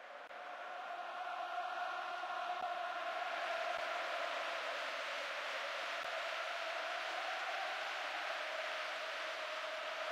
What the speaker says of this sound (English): the crowd at fever pitch, lending so much to the spectacle. Noise level high from the start